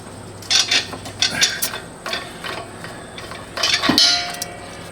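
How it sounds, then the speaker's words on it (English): Metal wrenches clink and clang against RV propane hose fittings as the hoses are undone, a handful of short sharp metallic knocks at close range with a quiet background and no talk. "with a couple wrenches, let's go ahead and first just undo the hoses."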